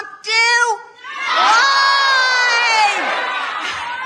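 A rally crowd shouts an answer back at the speaker in unison: a short, loud burst of voices, a brief dip, then a sustained roaring shout for about three seconds.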